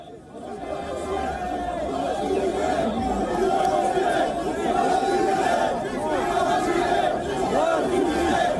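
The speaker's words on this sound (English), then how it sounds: "He was booed by the residents who were present there" A dense crowd of Algerian residents jeering and booing French President Macron, a loud continuous roar of many voices with shouts rising out of it, steady throughout.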